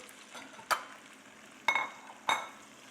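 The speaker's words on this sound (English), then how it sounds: "my onions and red and green peppers. Give that a nice stir." Onions with red and green peppers stirred in a pan for chicken cacciatore, with three sharp clinks of a utensil against the pan over a quiet, low sizzle.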